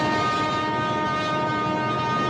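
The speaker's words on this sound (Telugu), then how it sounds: "అదిగో రైలు వస్తుంది." A train comes into view in a Telugu film scene, giving a loud, steady rumble with a sustained horn tone running through the whole stretch, without any speech.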